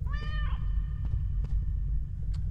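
A cat in the horror video game The Stairway 7 lets out one short, bright meow at the start, heard over a constant low, droning game ambience with faint scattered clicks and no talking.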